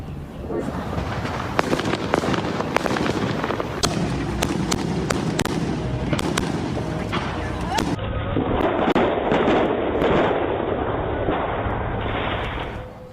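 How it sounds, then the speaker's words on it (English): A large quantity of fireworks explodes late at night in a Los Angeles neighbourhood, a dense stream of sharp cracks and booming bursts rattling out irregularly over a continuous rumbling, crackling background. "a large amount of fireworks exploded late last night"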